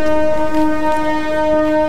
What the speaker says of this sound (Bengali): এই যে ট্রেন চলে যাচ্ছে ছেড়ে।